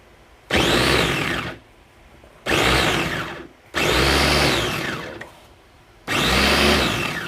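An electric grinder grinding tomatoes for salsa runs in four loud bursts of whining motor noise, each lasting about one to two seconds. Short quiet gaps separate the bursts, and there is no talk.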